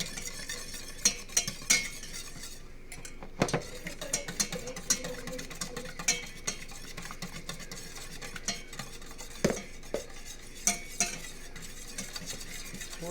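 Whisk beating milk and cheese into a lumpy cheese sauce for bacon mac and cheese in a pan, a steady quick scraping swish with frequent light metallic clinks against the pan, close and continuous with no talk.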